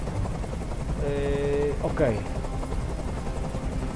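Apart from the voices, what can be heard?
helicopter in video game Detroit: Become Human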